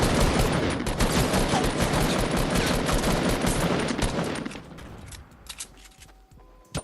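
Rapid sustained gunfire in the Fortnite Battle Royale video game, a dense loud burst of automatic shots for several seconds that then breaks off into a few scattered isolated shots and clicks.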